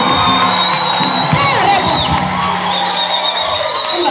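A religious healing gathering in Burundi, with a crowd cheering, whooping and clapping loudly and continuously throughout, shrill excited shouts rising above the dense roar.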